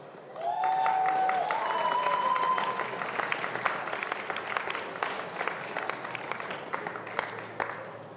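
Crowd at an armwrestling match, the 2022 Hardanger Open, bursts into loud applause and cheering, a dense wash of clapping that starts abruptly, with a brief whistle near the start, holding steady for several seconds before slowly thinning.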